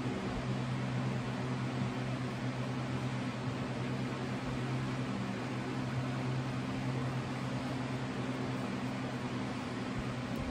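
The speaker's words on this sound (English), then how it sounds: "Once again, very sorry about the fan noise." A room fan runs during a wet shave, producing a steady, even broadband whoosh with a low motor hum underneath, constant and unbroken for ten seconds with no talking.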